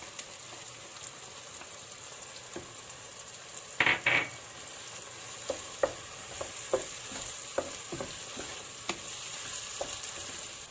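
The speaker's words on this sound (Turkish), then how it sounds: "Bir müddette bu şekilde kavuracağız bütün malzemeleri." Ingredients sautéing with butter in a pot, a soft continuous sizzle broken by a burst of scraping and a series of light stirring knocks, close and fairly quiet with no speech.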